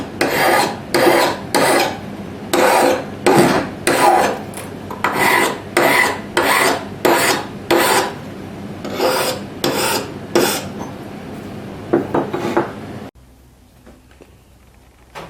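An epoxy scraper being sharpened with a file: a steady run of loud, rhythmic rasping strokes, about two per second, close up, then stopping abruptly into near silence.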